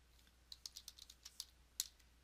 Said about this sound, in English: Be good if I could type